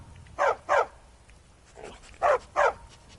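A dog in the video game Skyrim barks in two pairs of sharp, fairly close barks separated by a short pause, with a softer bark between them over quiet background.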